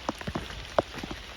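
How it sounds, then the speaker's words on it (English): Rain falling along the Appalachian Trail: a close, quiet patter of individual drops striking nearby surfaces, with a few louder splats over a soft wet background hiss. "Still raining. We thought it'd quit, but it hasn't yet."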